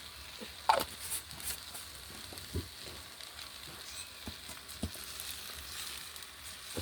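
Ivy gourd and egg stir-fry being stirred in a pan gives a faint, low sizzle broken by a few soft spatula taps and clicks, quiet and close.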